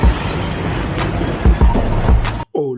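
A truck rumbles past on a Johannesburg road, a broadband engine roar with a few thumps and hissy bursts, cut off abruptly near the end.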